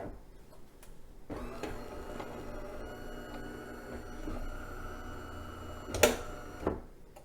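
A Smeg CMSU6451X built-in coffee maker brewing pre-ground coffee hums steadily with a whirring pump drone and mechanical clicks, followed by a couple of sharp clunks near the end, close and moderately loud.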